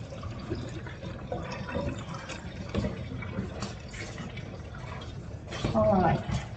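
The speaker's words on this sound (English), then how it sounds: "I'm going to rinse my hands." Hands rinse under a running kitchen faucet, a steady close splashing stream of water that swells louder near the end as the hands move under the flow.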